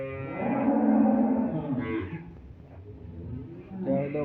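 A dairy cow gives a long, loud, close moo, followed by a quieter second low call near the end.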